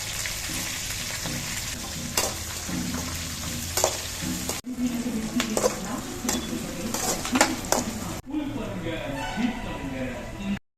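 Onions, green and dried chilies, cinnamon, cloves, fennel and cardamom frying in a little oil in a kadai, a loud steady sizzle with clinks and scrapes of stirring, and a voice talking over it.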